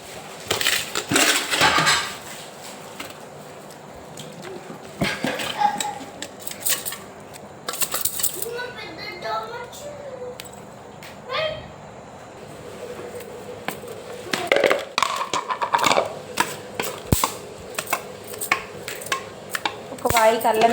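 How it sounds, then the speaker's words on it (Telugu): Spice masala for mango pickle, with garlic, being mixed by hand in a metal bowl: close, intermittent clinks, scrapes and clatters of utensil against the bowl, coming in uneven bursts with quieter gaps between them. "ఇప్పుడు ఈ మసాలంతా ఈ గిన్నెలు వేసుకొని కలిపేసుకుందాం"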